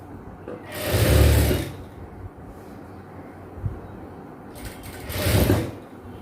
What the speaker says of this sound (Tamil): நம்ம ஃபுல்லாக வந்து சுற்றி ஸ்டிச் பண்ணியாச்சு